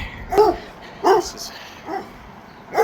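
A dog barks four times in short, spaced yips on a city walk, fairly close and clear over light outdoor background noise.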